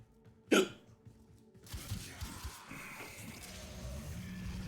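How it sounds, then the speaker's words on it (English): A single short, sharp hiccup from a person, close and abrupt, followed by quieter video game effects from Warframe playing in the background. "I do not know why I have hiccups right"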